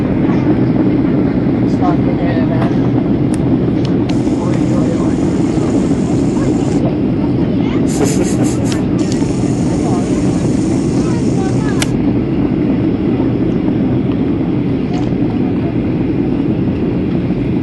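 Steady loud roar and rumble inside a Norwegian Airlines airliner cabin on landing approach to Budapest Liszt Ferenc Airport, a continuous broadband drone with occasional high tones and clicks, and people talking quietly over it.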